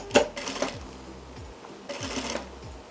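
Sewing machine stitching bias binding onto the wrong side of a green striped fabric piece, in two short bursts of rapid mechanical chatter with a pause between, close by and moderately loud.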